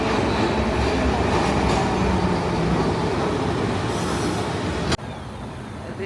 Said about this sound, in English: the tram number 1 is one of the oldest tram. It's so old, but it does what it needs to do.